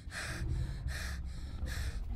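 Three slow, heavy breaths from the horror game Find Yourself, each a loud, close, snorting gasp spaced evenly over a deep rumbling ambience, with no one speaking.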